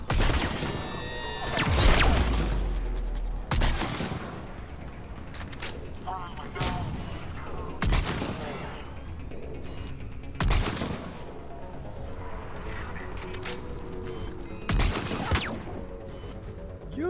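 Sniper rifle fire in the Mass Effect Legendary Edition 3 video game, several sharp loud shots spaced a few seconds apart amid game effects and rumble.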